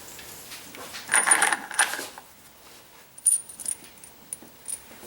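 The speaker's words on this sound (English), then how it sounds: "The next thing we'll do is drop the distributor down into place" An HEI distributor being dropped into place on an engine during a carburetor conversion, heard as a few close, bright metallic clinks and rattles in two short clusters with quiet gaps between.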